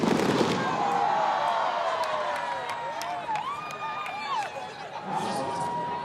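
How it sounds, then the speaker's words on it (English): Fireworks burst over Dell Diamond stadium, a series of crackling pops and whistling rising trails against a murmuring crowd, with a voice talking over the show. "The first of what should be many fireworks here at Dell Diamond."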